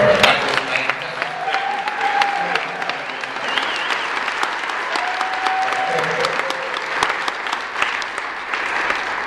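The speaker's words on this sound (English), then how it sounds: "Let's share another round of applause for that." A seated audience at a musical event applauds, a sustained roar of clapping lasting several seconds with sharp individual claps and a few faint voices and tonal whistles mixed in, loud and steady.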